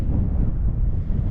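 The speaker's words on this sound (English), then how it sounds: "It's a bit windy, so I've put the tent up." Strong wind buffeting a microphone at a wild camp in the Yorkshire Dales, a loud low gusty roar with no other sounds.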